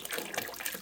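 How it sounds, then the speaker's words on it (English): Hot water pours into an ultrasonic cleaner tank in a brief, continuous splashing rush, fairly close and steady, with no talking. "So there's some hot water."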